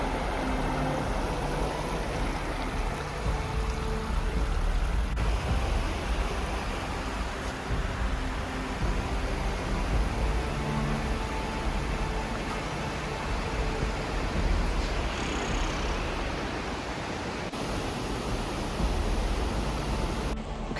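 Broad, steady rushing of the waterfall at Gordale Scar, a limestone gorge, heard as constant dense white noise close by for the whole stretch with no talking over it.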